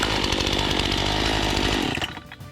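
A small engine, likely a chainsaw, roars steadily at close range after being pull-started by cord, then cuts off abruptly near the end, leaving faint clatter.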